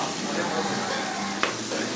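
Onions fry in a pan for naatu kozhi kuzhambu, a close, steady sizzle with a single brief clink partway through.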